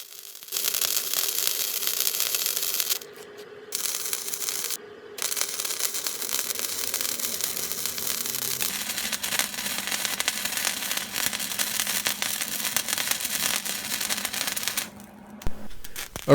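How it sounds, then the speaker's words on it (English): A welder lays spot welds on the steel sides of a quench tank, giving a dense, continuous crackling sizzle broken by a few short pauses between welds. "throwing on some more spot welds to get the warps out"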